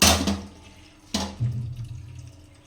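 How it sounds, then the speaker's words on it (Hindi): Water is poured into a brass puja vessel for Chhath rituals, two close splashing bursts with a trickling tail, no voices. "पानी इसमें थोड़ा डाल देते हैं"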